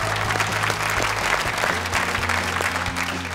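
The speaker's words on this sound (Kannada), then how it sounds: "ಅವರಿಗೆ ಜೋರಾಗಿ ಚಪ್ಪಾಳೆ" A studio audience at a Kannada television game show applauds steadily, a dense, even clapping from many hands that continues at full strength throughout.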